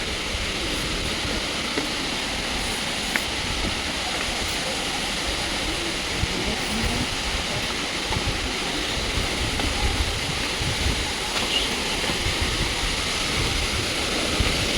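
Akaya Gangai waterfall in the Kolli Hills, a continuous broadband rush of falling water that stays steady and loud throughout, without speech.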